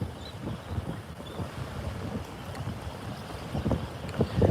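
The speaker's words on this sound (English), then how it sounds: "it's gonna be kind of windy out here" Steady wind buffets the microphone with low rumbling gusts over the Gulf of Mexico during Tropical Storm Bertha, swelling louder toward the end; no voices.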